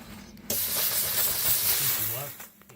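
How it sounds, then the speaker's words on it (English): A Vapor Rino 200 PSI commercial steam cleaner with a large floor brush steams a rug, a loud, close, continuous hiss that bursts on abruptly, holds steady for about two seconds, then tapers off. "You could also take the larger floor brush and encapsulate the whole area and just steam the whole thing."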